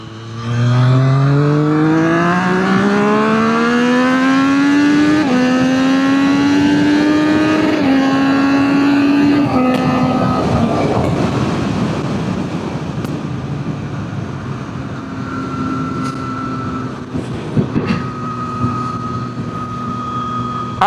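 Triumph 765RS motorcycle accelerating hard up a hill, the engine note climbing through several gear changes, then settling into a steadier roar with wind noise as it cruises on, loud and close without talk.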